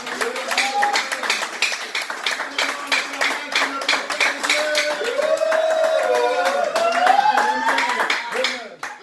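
Church congregation applauding during a Sunday worship service, steady crowd clapping throughout with voices calling out over it.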